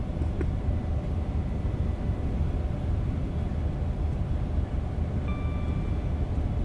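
Steady rumble of a train running on the East Coast Main Line in Train Simulator, a continuous loud low drone with faint tonal whines near the end, no talk.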